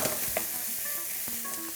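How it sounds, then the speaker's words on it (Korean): Red chili, garlic and scallion sizzle in hot oil as they are stir-fried in a pan, a steady close crackling hiss with faint clinks, no voices. "빨간 고추 그리고 마늘 파 마늘을 먼저 잘 볶아줘야 돼요."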